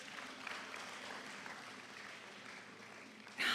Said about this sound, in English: Please clap the Student Council